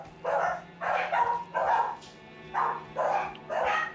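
Dogs barking in the video game Elden Ring, a run of six sharp, fairly loud barks spaced in irregular pairs with brief gaps between them, heard alone over a faint steady background hum.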